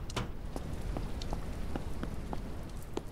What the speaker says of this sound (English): I think the storm has mostly passed, and it's just a little bit of rain now.